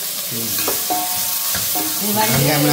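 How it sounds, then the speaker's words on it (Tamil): Oil crackles and sizzles steadily in a pan as curry leaves, onion, mustard seeds and fennel are tempered, stirred and tossed, with scraping and clinking of a utensil throughout. "கருவேப்பிலை வெங்காயம் கடுகு பெருஞ்சீரகம் நான் போட்டு தாளிக்கிறேன்"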